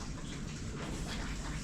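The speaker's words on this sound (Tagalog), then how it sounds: "Medyo masungit pa rin yung panahon. Yan, medyo maambon-ambon pa." Steady light drizzle falling outdoors on a gloomy Monday, a constant soft hiss of rain with no breaks, fairly quiet and unaccompanied by voices.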